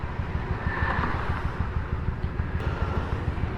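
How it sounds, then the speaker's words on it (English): Rush-hour traffic rolls along 28th Street around five o'clock, a steady, loud and close engine rumble with a constant low drone and no pauses. "I hate 28th Street during the 5 o'clock rush"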